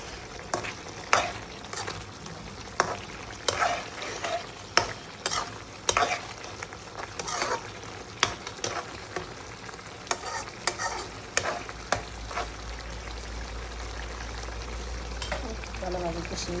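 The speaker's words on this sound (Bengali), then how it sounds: "আচ্ছা, মাছটা কষাই নিই।" Fish sautés in a pan as a spatula stirs in a steady rhythm of sharp scrapes and taps over a soft sizzle, close by, with a brief quiet stretch near the end.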